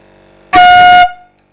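A homemade, very loud car air horn sounds a single blast on the note F5, sharp and piercing, lasting about half a second before cutting off with a brief ring.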